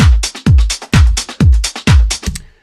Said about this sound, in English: I'm going to exaggerate the reverb by turning it up 6 dB so you can hear it a bit more.